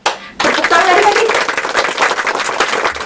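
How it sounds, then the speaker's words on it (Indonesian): Children at a Sunday school service clap their hands together after a brief quiet start, a loud, dense burst of clapping that continues for several seconds. "Tepuk tangan adik-adik."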